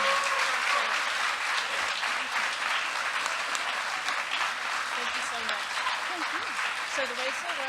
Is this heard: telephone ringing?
no